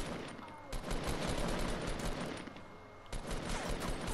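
Bursts of rapid gunfire in the video game Fortnite, clustered volleys of shots with a short lull between them, moderately faint.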